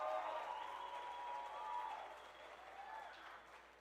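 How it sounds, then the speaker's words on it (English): Audience applause at a steelpan band festival preliminary, a steady wash of clapping from a crowd lasting several seconds at moderate level, with no voices over it. "Give a round of applause to Mrs. Sedley"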